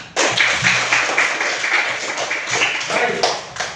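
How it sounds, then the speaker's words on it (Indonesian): Children in a classroom clapping their hands together in a steady round of overlapping claps lasting a few seconds, close and fairly loud, with a brief voice at the start. "tepuk tangan."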